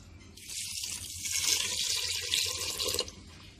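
A glass of water is poured into a pot of lentils, mince and spices for shami kebabs, a close splashing pour that swells and then stops abruptly after about three seconds.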